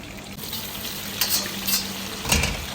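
Fries, meat, red and green peppers and onion frying together in hot oil, a close, loud sizzle punctuated by three scraping stirring bursts.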